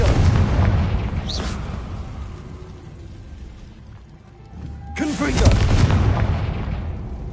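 Confringo fire spells blasting in Hogwarts Legacy, two loud booming bursts with the second near the end, separated by a quieter rumbling stretch.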